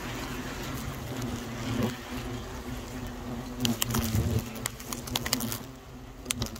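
Asian hornets swarm around a large nest built inside a tractor, giving a steady close insect buzz with low droning tones and scattered brief crackles and knocks over the top.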